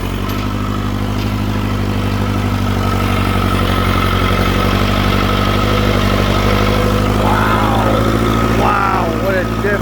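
Tractor engine labouring uphill in second gear under heavy load, a loud steady low-pitched drone that holds throughout with brief squeaks and rattles near the end, while someone talks over it.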